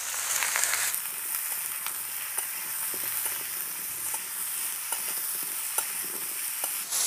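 Bottle gourd pieces fry in oil with turmeric in a pan, a steady bright sizzle broken by occasional light clicks of stirring.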